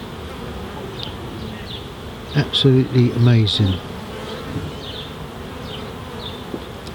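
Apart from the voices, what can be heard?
honey bees flying into hive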